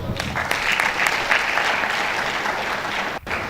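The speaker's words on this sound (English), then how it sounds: "A round of applause for her" Audience applause at a valedictory ceremony honouring a professor, full steady clapping that dips briefly near the end before resuming.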